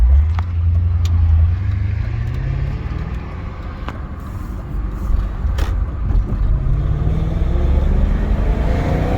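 A 2000 BMW E39 M5 engine with a deep, low rumble as the car pulls out into traffic, pitch rising gradually as it accelerates, heard from inside the cabin with faint clicks over the steady drone.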